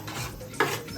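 Chicken curry for a Malvani chicken rassa is stirred in a pot, a short close scrape and clink of a spoon against metal over a soft background sizzle.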